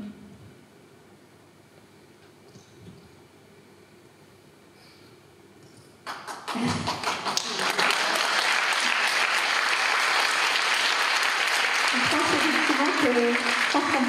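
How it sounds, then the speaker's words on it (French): An audience at a closing evening for a culture and mental health project bursts into loud, sustained applause after a quiet stretch, the clapping dense and continuous to the end. "je pense qu'on peut les applaudir bien fort"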